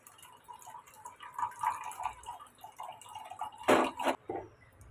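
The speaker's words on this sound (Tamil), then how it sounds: "இப்போ இதை நம்ம ஒரு வடிகட்டி வச்சு வடிகட்டி எடுத்துக்கலாம்" Blended watermelon juice, made from the fruit alone with no added water, strained through a kitchen strainer, giving soft close drips and trickles over faint background hiss, ending in a louder splashy burst of liquid near the end.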